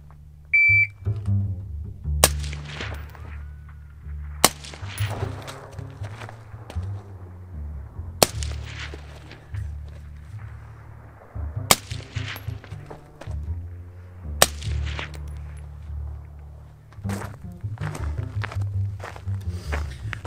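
Rifle fitted with an LPVO optic fired from prone at a target range: about five sharp, loud gunshots spaced several seconds apart, each ringing out briefly, with low rumbling wind and handling noise between them.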